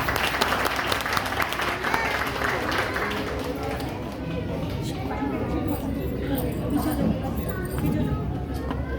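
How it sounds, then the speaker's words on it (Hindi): A crowd applauding steadily throughout, dense clapping filling the space with some background chatter mixed in, at a children's cultural presentation in Gurugram, India. "इसके लिए एक बार ताली दीजिए"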